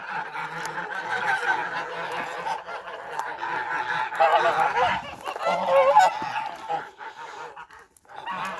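Geese honk noisily in a village yard, a flock calling in overlapping, repeated nasal honks that swell and fade, fairly close, with no speech.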